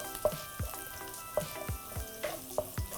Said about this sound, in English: So let's go ahead with our carrots. Now we're just gonna saute these for about a minute or two until they're slightly tender.